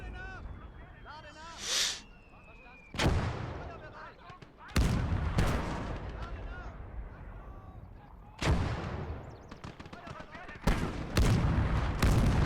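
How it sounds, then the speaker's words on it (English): Artillery shells fire in a battle video game: several heavy, booming blasts spread over the stretch, each a sudden loud crack with a rumbling tail, over constant battlefield noise and a faint whistle early on. "Artillery's about to lob another shell over."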